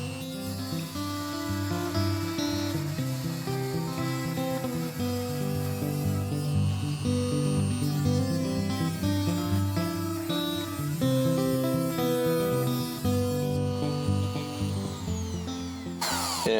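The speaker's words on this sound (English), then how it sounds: "I am going to use this little Dremel tool to try to cut that slot and open it up." A small Dremel rotary tool cuts a slot, whining loudly and steadily at close range with shifting pitch as it bites into the material, running nearly continuously for about sixteen seconds and cutting off at the end.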